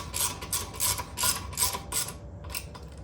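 A wrench tightens the front brake caliper bolts on a 2020 Harley-Davidson Low Rider S, making a quick string of close metallic ratcheting clicks in short bursts that end in a pause and one last burst.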